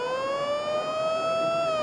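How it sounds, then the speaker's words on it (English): A warning siren sounds at Flemington racecourse during the Melbourne Cup race meeting as a loud, steady wailing tone that rises slightly in pitch and holds. "there is a warning siren"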